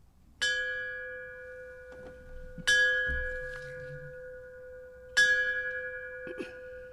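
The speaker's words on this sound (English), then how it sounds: "Ring the bell 3 times." A bell at a veterans' memorial luncheon, part of a missing man table ceremony, is struck three times at slow, even intervals. Each strike rings out clearly and hangs on with a long decay in an otherwise quiet room.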